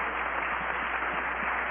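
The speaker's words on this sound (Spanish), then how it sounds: "Un aplauso para Jesús." A church congregation at a Spanish-language Bible preaching service claps in a steady, muffled, continuous patter, heard on a low-fidelity recording.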